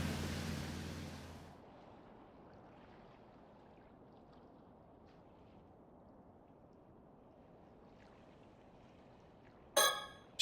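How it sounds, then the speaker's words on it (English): Soft, steady sea waves wash around a stopped boat in the game Paranormasight, a low continuous swell with no voices, opening with a louder rush and ending on a brief sharp burst. "Nothing but the sound of waves."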